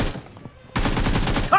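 Gunfire in a battle royale video game comes as a loud burst of rapid shots, then a brief lull and a second sustained burst ending in a sharp crack, heard close with no talking.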